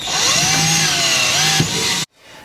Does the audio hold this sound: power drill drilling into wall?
yes